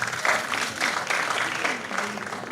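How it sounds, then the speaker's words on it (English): An audience at an academic-to-industry career talk gives a round of applause, a fairly quiet, steady patter of clapping with a few louder swells. "Please give her a round of applause."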